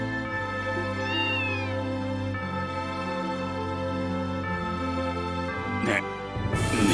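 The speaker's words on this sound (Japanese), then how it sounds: "猫。" A cat meows in the Trails from Zero video game, with a rising call near the start heard over steady game music and sound effects.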